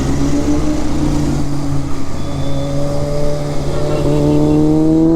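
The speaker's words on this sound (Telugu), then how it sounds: "అంత ట్రాఫిక్ ఉంది ఇక్కడ." Heavy city road traffic in Hyderabad with motorcycles crawling in low gear, a loud, close engine drone with steady tonal hum and shifting pitch running throughout.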